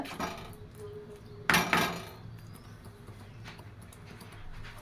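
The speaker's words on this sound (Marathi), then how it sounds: "झाकण लावूया ह्याच्यावर" A metal lid is set onto a pan of curd-and-okra gravy (dahi bhendi), one sharp clatter followed by a quieter knock, close and alone against low kitchen hiss.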